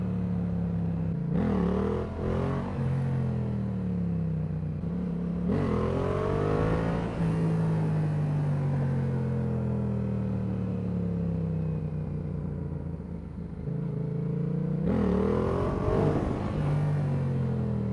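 A motorcycle rides along a road with a loud, steady engine drone, rising in pitch as the rider revs and accelerates near the start and again near the end, with no talking over it.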